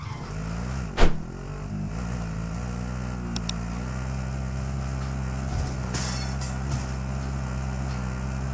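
Car driven in the Warzone video game, a steady engine drone with a sharp knock near the start and a few brief clinks and bumps while the motor keeps running.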